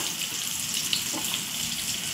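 Steady oil sizzle and crackle of a sabudana khichdi tempering fills the clip, close and continuous, with a faint brief scatter as salt is dropped in.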